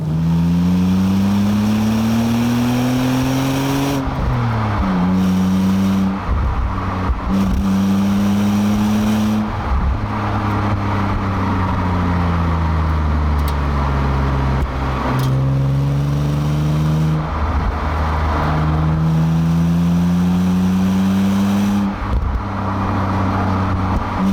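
A BMW E82 125i coupe accelerating hard on an open road, its engine note loud and sustained, rising through the revs and dropping at several gear changes with no talk.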